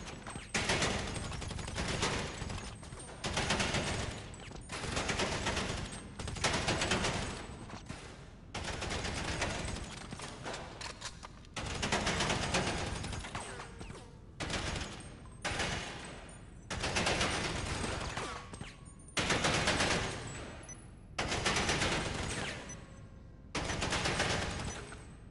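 Rapid gunfire at the bunker shooting range in GTA Online, dense loud bursts of automatic shots repeating in quick runs separated by brief pauses, with no talking over them.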